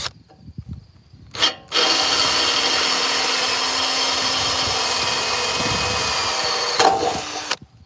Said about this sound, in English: That is the sound of a drill battery about to die.